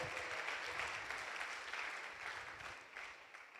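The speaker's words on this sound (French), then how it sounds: "Je vous demande de l'applaudir" Steady audience applause greets a guest at a French conference on sovereignty, a dense, moderately distant clapping that holds for a few seconds and slowly thins out.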